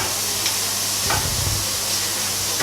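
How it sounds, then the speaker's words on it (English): Onions fry and soften in a pan for a curry with a white sauce, a continuous even sizzle with faint stirring scrapes, close by and without talk. "So we just burn this, get these onions softened."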